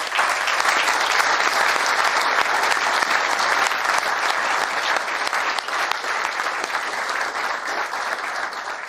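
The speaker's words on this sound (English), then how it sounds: "I think you deserve great applause" A crowd claps steadily and loudly at the close of a forum in Bratislava, dense sustained applause that carries on without a break and eases slightly toward the end.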